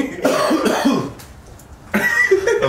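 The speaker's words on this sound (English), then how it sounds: "I was still coughing" A man coughs several times in quick, rough bursts, close and fairly loud, followed by a short pause and more throaty coughing and noise.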